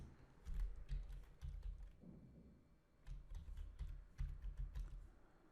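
Quiet keystrokes on a computer keyboard while entering a piping continuation label in a CAD drawing program, soft irregular clicks in short bursts over a low background hum, with no voices.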